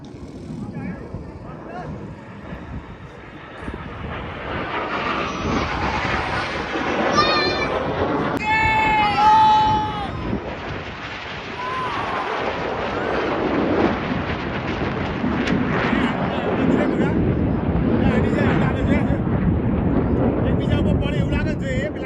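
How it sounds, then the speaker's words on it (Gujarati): Air force jet planes roar overhead, a loud broad rumble building and swelling for many seconds, with people talking and shouting excitedly throughout. "મિત્રો જોરદાર એરફોર્સ નો ચાલુ છે બધા છૂટા જેટ વિમાન કહેવાય"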